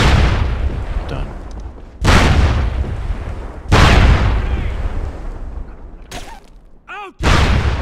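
Grenade explosions in the video game SOCOM Combined Assault, several loud booming blasts at irregular intervals with short quieter gaps between them, plus a few brief electronic chirps near the end.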